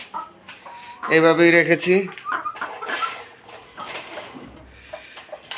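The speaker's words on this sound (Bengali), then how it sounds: "এই যে সুস্থ মুরগি" Chickens on a small home farm cluck, and one loud, close squawking cluck bursts out near the start; softer clucks and rustling follow while a person talks nearby.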